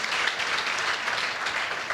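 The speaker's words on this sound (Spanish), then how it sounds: "Denle un aplauso a Johnny por su buena disposición" A church congregation applauds a man named Johnny during a sermon, steady dense clapping at an even level throughout.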